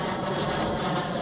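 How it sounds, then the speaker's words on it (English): Airplane engine noise from aircraft passing low over Dockweiler Beach near the coast, a steady broadband roar that holds at a constant level for the whole short stretch, with no talking. "Just the constant sound of freaking airplanes."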